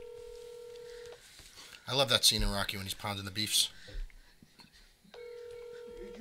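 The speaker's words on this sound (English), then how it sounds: "Let's give him a call" Telephone ringback tone for an outgoing phone call, steady electronic ring bursts at the start and end, with someone talking loudly in between.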